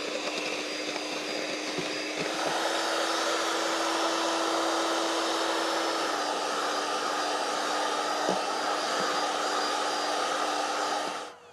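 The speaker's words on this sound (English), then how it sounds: "Flick the inverter on. Put the mixer up on full speed." An electric mixer powered through an inverter runs at full speed with a steady, loud whirring drone and a high motor whine that holds throughout before cutting off at the end.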